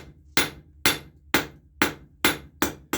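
Hammer blows forging a metal taper at a blacksmith's forge ring out sharply and close, seven evenly spaced strikes each with a bright ringing decay, no voices present.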